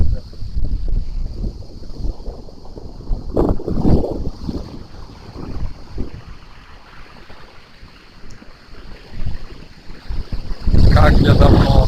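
Ocean waves and gusty wind on a black sand beach, with surf rumbling and surging in uneven bursts, wind buffeting the microphone, and a heavy wave crashing loudly near the end.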